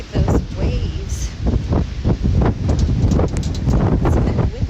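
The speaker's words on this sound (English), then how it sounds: "It's a bit windy today." Gusty wind at an oceanfront campsite in Southern California buffets the microphone in loud, uneven rushes that rise and fall throughout.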